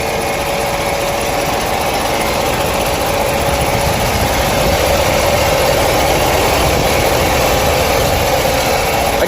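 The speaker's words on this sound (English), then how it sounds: "you can still hear that it's a diesel, but they are so much quieter than they've been in the past." A Ford F750 truck's 6.7-liter Powerstroke diesel engine idling, a steady, close, fairly quiet low rumble with even mechanical vibration and a faint whine, continuous throughout with no speech.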